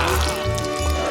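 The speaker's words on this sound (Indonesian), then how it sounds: "Dan wafelku biasanya disiram dengan sirup maple" Maple syrup is poured over waffles, making a short, thick, wet pour with a soft squishy drip close by, lasting only about a second.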